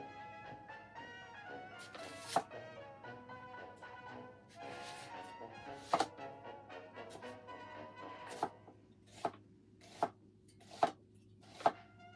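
Knife mincing onion on a cutting board: a run of quick, close chopping taps, thinning out toward the end into sharp, evenly spaced single chops, with no talk.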